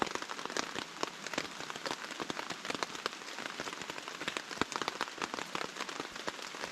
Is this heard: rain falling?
yes